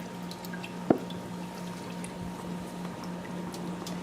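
About a liter of milk poured into a pot, a soft steady liquid trickle with faint drips, low and continuous, over a background hum.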